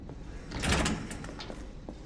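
An unlocked door opens in the survival horror game Resident Evil 7, a single muffled sliding scrape that swells briefly and then fades into a quiet game ambience.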